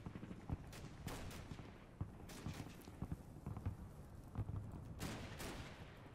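Distant K98 rifle fire in a WWII Normandy video game, a scattering of sharp reports popping irregularly over a busy rumbling battle bed with several louder cracks standing out.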